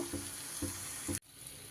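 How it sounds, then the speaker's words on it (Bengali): Sweet jaggery parathas fry in oil over medium heat, a steady close sizzle with a few soft stirring or turning sounds before the frying noise drops away abruptly near the end. "মাঝারি আঁচে কিন্তু আমি এগুলোকে ভেজে নেব"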